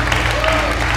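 A short burst of steady crowd applause, dense and even throughout, with a voice talking over the clapping.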